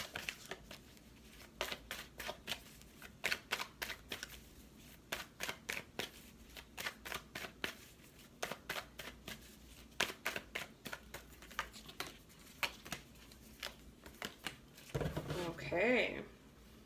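A deck of tarot cards being shuffled up close, giving quick papery riffles and soft taps in irregular bursts for most of the stretch. A voice speaks briefly near the end.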